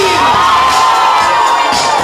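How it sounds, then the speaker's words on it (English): A crowd of women at a wedding screams and cheers loudly and continuously, high shrill voices merging into a dense roar with a couple of sharper whoops. "Ladies, scream."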